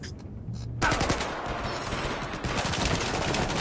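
Rapid machine-gun fire bursts out in a tank video game after a brief quiet start, dense and continuous to the end, with a voice speaking faintly beneath.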